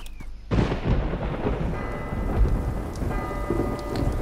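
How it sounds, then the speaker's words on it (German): Heavy rain pours steadily in a thunderstorm scene from the video game Last Day of June, with deep rumbling thunder rolling underneath and no voices, loud and continuous throughout. "Das regnet."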